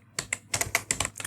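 Code being typed on a computer keyboard, about a dozen quick, crisp key clicks in short uneven bursts, close and clear with no talk.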